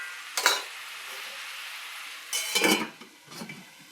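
Spice paste for a Bengali jackfruit and peas curry sizzles steadily in a covered pan, with a few short bursts of scraping and stirring rising above the low, continuous frying hiss.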